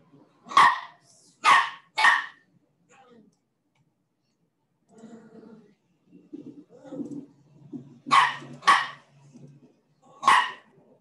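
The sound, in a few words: dogs barking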